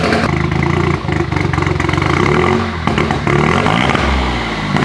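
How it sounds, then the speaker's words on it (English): A Toyota GR Corolla under tuning, with a sputter fault, burbles at idle and low speed: a loud, close, uneven stuttering engine pulse with brief revs and dips and no one talking. "That burble, that ba ba ba ba ba ba ba at idle and like kind of low speed stuff"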